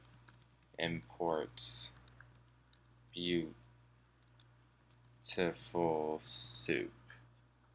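Python code being typed on a computer keyboard, with bursts of quick, light key clicks scattered between and beneath a person talking nearby.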